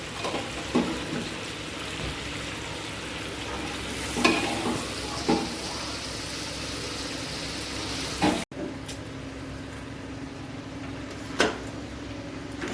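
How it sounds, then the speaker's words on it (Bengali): Chickpeas and potatoes sizzle in spices in a hot pan, stirred with steady scraping strokes over a constant close frying hiss, a few sharper spoon knocks standing out. "এখন এই কাবলি চা এই মশলাগুলোর মধ্যে কাবলি চানা দিয়ে ভালো করে কষাই নেব"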